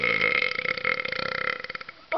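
A long, loud, rumbling burp during a car burping contest, rattling on for about two seconds with a pulsing, croaking texture before a short breathy sound at the end.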